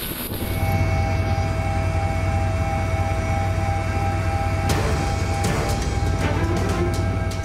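A police helicopter of the Indonesian National Police air unit flies over flooded Jakarta. It gives off a steady, loud engine drone with a constant low hum and whine throughout, and a few brief rattles appear partway through.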